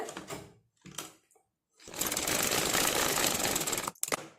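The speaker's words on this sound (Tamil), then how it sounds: "டபுள் ஸ்டிச் போட்டுருங்க." A sewing machine double-stitches the front of a blouse, its needle running in one steady, close whirring burst of about two seconds after a few short, quieter mechanical sounds.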